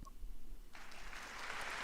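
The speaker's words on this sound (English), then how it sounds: "There's your applause for speaking 2 languages." Broadband applause breaks out and holds steady at a small Latino small-business gathering, a room of people clapping together for a speaker who talks in two or three languages.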